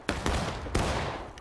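Musket volleys crack out in a Civil War battle in the War of Rights video game: two loud, overlapping gunfire bursts close together, each with a rolling echoing tail.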